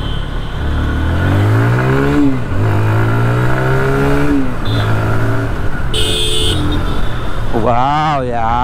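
A 2023 TVS Apache RTR 160 2V motorcycle accelerating on the road, engine note rising steadily through the gears with clear pitch sweeps and a sharp rev near the end, under continuous wind noise while a rider talks throughout.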